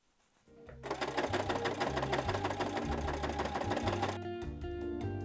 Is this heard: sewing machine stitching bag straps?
yes